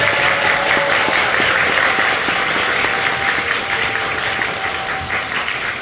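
A congregation gives sustained applause at the end of a church worship service, with dense, steady clapping that fills the room for several seconds. A voice comes through faintly beneath it.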